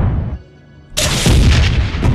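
A rocket launcher in the game Space Engineers fires with a sudden loud, booming blast that cuts in after a quieter hum and rolls on as a heavy, rumbling roar.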